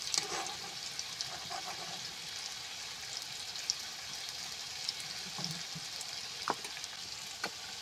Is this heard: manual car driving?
no